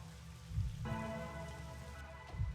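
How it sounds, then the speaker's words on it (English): Gentle rain falls steadily in the video game Rain Code, a soft continuous patter under a low sustained musical drone with occasional deeper thumps. "It's a gentle rain, protecting us."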